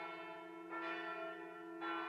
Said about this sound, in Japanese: 鐘が鳴ってる。